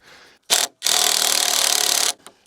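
A cordless drill working on a pole barn shed roof gives a short burst, pauses, then runs in one long whirring grind that cuts off abruptly. The sound is loud and close, with no talk.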